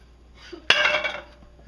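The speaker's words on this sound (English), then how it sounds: "So you mix in your clams," Canned clams go into a pot of thickening sauce with one sharp metallic clink of spoon against pot, then a brief scraping stir that fades, faint and close, with no talk.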